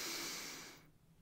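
A single deep breath drawn in and let out, a loud airy rush of breath that fades into near silence after under a second, with no voices.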